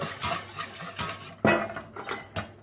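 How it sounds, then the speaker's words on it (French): Metal utensil scraping and clinking against a saucepan of pastry cream in irregular strokes, close up, with no talking. "Et on met l'intégralité de la crème dans la casserole. Et là, on mélange"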